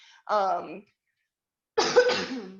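A person coughs twice, a short harsh burst, a second of silence, then a longer rougher cough with some throat clearing, close to the microphone.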